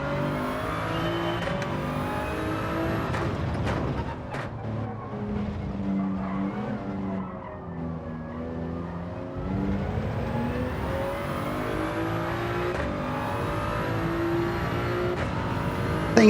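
A BMW race car in Gran Turismo 7 drives hard with a loud, continuous engine drone that rises and falls through gear changes and corners, with screeching tire squeal during the turns.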